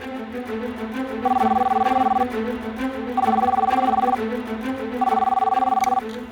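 A landline telephone repeats a steady electronic ringback tone three times in even bursts about a second long, each followed by a short gap, heard close over a faint hum while a call goes through to a school.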